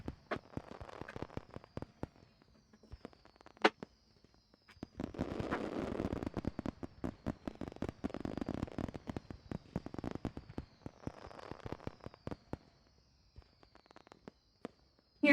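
Fireworks pop and crackle in the background of a home kitchen during a cooking session, a long run of sharp bangs in irregular bursts with a denser cluster in the middle, with no speech.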